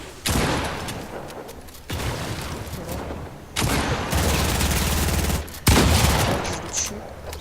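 Bursts of gunfire from a carbine in a competitive duo battle-royale shooter, coming as three sustained volleys with short gaps between them, loud and continuous with dense rapid shots.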